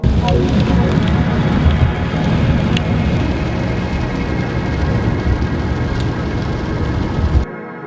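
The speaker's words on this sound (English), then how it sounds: "Oh man, it's raining in the sun." Rain falling in sunshine during a drive through Wyoming, a dense steady patter and hiss with engine or road rumble underneath and occasional sharp drops, loud and close, cutting off abruptly near the end.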